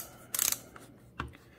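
Clutch slipping on a Milwaukee M12 cordless drill/driver 2494-22, heard as a quick, close burst of rapid mechanical ratcheting clicks followed by a second, shorter clatter after a brief pause.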